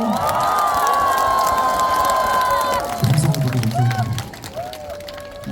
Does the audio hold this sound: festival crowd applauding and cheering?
yes